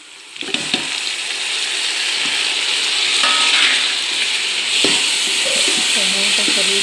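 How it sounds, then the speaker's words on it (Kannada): Tomato dropped into browned onions frying in a pan for vegetable palav brings a sharp burst of sizzling that settles into a steady hiss with occasional stirring, and a voice speaks briefly over it. "ಇವಾಗ ಟೊಮೊಟೊ ಹಾಕೋಣ."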